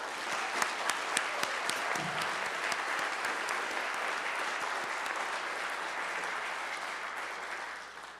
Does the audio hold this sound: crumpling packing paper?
no